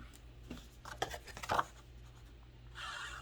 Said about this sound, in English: Remove my tape.